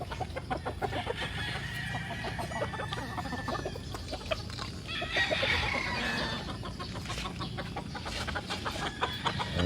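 Farm chickens clucking and murmuring while pecking at feed, a rooster crowing now and then among the flock, with scattered bird calls over a soft rustling background and no talk.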